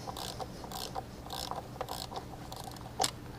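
A hand ratchet loosens a bolt on the serpentine belt tensioner of a Mk6 VW Golf GTI. It clicks in short rhythmic bursts of pawl ticks, close and clear, with a sharper clack near the end and no talking.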